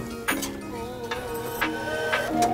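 Boondi for motichur laddu gets stirred in a pan over a low flame, a spoon clinking and scraping against the metal a few times over a steady background hum, with no speech.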